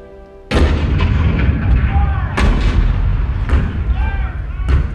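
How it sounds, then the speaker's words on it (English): Heavy cannon fire in the Hall of Presidents show depicting the 1861 Fort Sumter bombardment booms repeatedly, several loud blasts in quick succession with rumbling echoes between them, close and forceful. "The cannon spoke for war, bitter, violent, and devastating."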